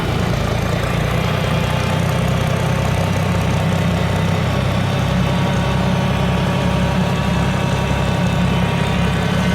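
An Oliver Super 88 tractor engine runs on the farm during wheat harvest, the choke pushed in and a little throttle given. The idle is loud and close with a steady low drone and rapid firing, and no one speaks.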